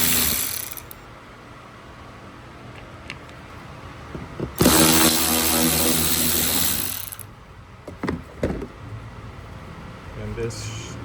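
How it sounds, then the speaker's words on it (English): A T20 star bit on a power driver backing out the rear bumper reflector bolts of a 2021-2026 Chevrolet Tahoe: a loud, sustained whirring burst mid-clip between shorter mechanical clicks and clatter, with someone talking around it. "I'm going to take a T20 star bit to remove the bumper reflector"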